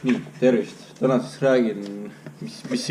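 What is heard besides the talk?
No everyday noise stands out behind the speech.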